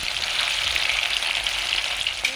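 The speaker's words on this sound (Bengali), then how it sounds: "তেল খুব ভালোভাবে গরম হয়ে গেছে একে একে দিয়ে ভেজে নেব এপিট ওপিট করে লাল লাল করে একটু ভেজে নেব" Chitol fish muithya dumplings deep-frying in hot oil, a steady, close, dense sizzle that holds evenly throughout with a small bump near the end.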